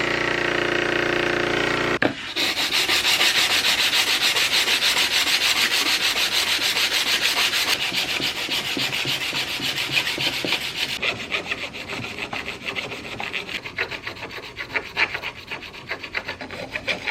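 Steel blade of an old, roughly 100-year-old hand plane held against a grinder to shape its primary bevel, giving a loud, steady abrasive grinding rasp that runs continuously after a brief start and grows more uneven and scratchy toward the end.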